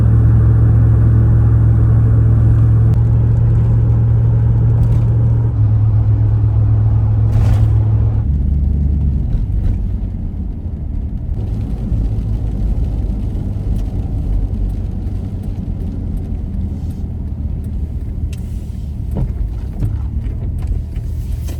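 A vehicle on Falken Wildpeaks AT3 all-terrain tires drives toward town, a steady loud engine and road rumble with wind noise that eases slightly partway through, no talking.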